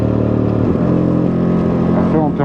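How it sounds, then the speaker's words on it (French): A Ducati Monster 937 twin-cylinder motorcycle engine runs close by with a steady, loud throb and shifting revs toward the end, a voice talking over part of it. "c'est vrai qu'il y a une sonorité un peu particulière du bicylindre"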